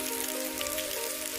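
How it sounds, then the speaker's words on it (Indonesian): Heavy rain falls around an angler fishing for tawes from under a bridge, a steady dense hiss of drops on surfaces with a constant low drone, loud and unbroken, no voices. "Harinya nampak sekali hujan"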